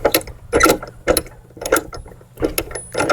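A Rotopax DLX mount is spun down and tightened by hand, giving repeated ratcheting, gear-like clicks in short bursts with brief pauses between them, close and clear.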